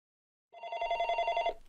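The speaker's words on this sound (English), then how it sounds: "A phone is ringing." A telephone rings in a phone booth within a video game, one steady electronic bell trill that starts abruptly, holds loud and close for about a second, then cuts off. No voices.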